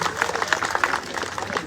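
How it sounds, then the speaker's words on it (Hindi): Crowd at a political rally applauding, a brief burst of dense, close clapping mixed with murmuring voices. "जोरदार ताली बजाइए।"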